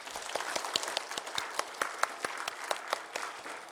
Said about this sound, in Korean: 우리 아버지 하나님 앞에 큰 영광의 박수를 올려드리겠습니다.